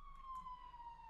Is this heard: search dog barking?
no